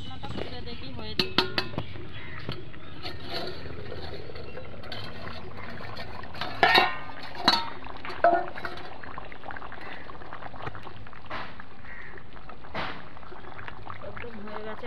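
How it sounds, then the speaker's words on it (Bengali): The lid comes off a pot of chicken curry with potatoes, with a few sharp metallic clanks partway through, a bubbling simmer and scattered utensil clinks, while a voice talks intermittently. "ঢাকনাটা খুলে দেখি হয়েছে।"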